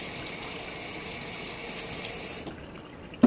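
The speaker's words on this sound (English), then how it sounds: "I better properly wash my hands." Tap water running steadily into a sink while hands are washed of peanut butter, a constant splashing hiss that cuts off near the end, followed by a brief clunk.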